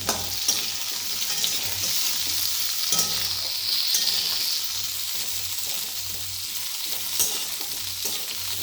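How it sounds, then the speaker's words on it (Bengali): Sweet potato frying in a pan for a Bengali vegetarian sukto, with a steady hissing sizzle and occasional stirring clatters, close and loud, no voices. "এবার রাঙালুটা দিয়ে দিচ্ছি।"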